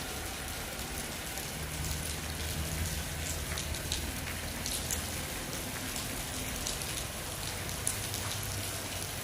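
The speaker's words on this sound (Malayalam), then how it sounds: "നല്ലോണം മഴ പാറിക്കൊണ്ട് നിൽക്കുന്നുണ്ട്" Heavy rain pours steadily beside a muddy, swollen river in Kerala, heard from shelter under a road bridge, a dense continuous hiss of drops on water and surfaces with no speech.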